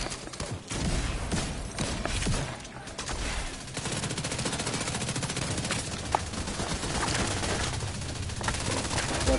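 Heavy sustained automatic gunfire in a PS5 video game (The Tombs) runs as a dense, continuous rattle of shots through the whole stretch.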